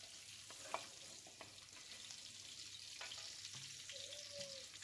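Beef tallow melts in a sac pan for sac kavurma, giving a faint, steady crackling sizzle with occasional soft scrapes and taps of stirring.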